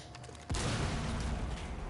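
A sudden loud burst of explosion and gunfire from the video game Rainbow Six Siege, arriving after quiet background and roaring on as dense noise to the end.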